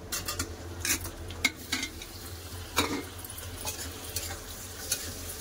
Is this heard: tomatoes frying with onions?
yes